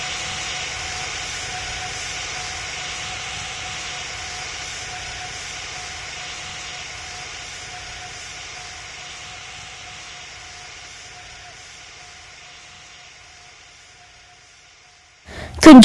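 Jet airliner taking off in the PTFS flight simulator game, a steady roaring engine whine with a high tone that slowly fades as it climbs away, ending in a sudden loud burst.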